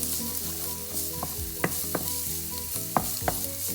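Garlic frying in a pan with ginger for chicken coconut with lemongrass, a loud, close, continuous sizzle with a few clacks of stirring, no voices.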